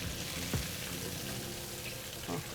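Fish frying in hot oil for a traditional Italian fritto misto, a steady close sizzle and bubbling throughout with a couple of brief clatters from stirring or handling, no voices.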